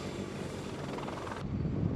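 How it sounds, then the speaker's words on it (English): A Sikorsky CH-53K King Stallion heavy-lift military cargo helicopter produces a steady, dense rotor and engine roar that is fairly loud and close, with a slight wind rush and a brief change in tone near the end. "Meet the Sikorsky CH-53K King Stallion, the largest helicopter in U.S. military."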